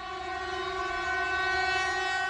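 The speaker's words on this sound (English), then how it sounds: "Blaring its horn to remember dozens of lives lost. A special memorial train passes through the site" A memorial train passes the site of Taiwan's Taroko Express rail disaster, blaring its horn in one loud, sustained, steady chord with no pauses; no voices are heard.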